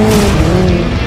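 A Hyundai IONIQ 5 N drifts with a loud, sustained tire squeal and electric drivetrain whine, close and continuous for about a second.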